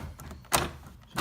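Door lock actuator on an 1986 C4 Corvette pace car, newly installed, operating with a couple of quick mechanical thunks, close and fairly loud, no talk.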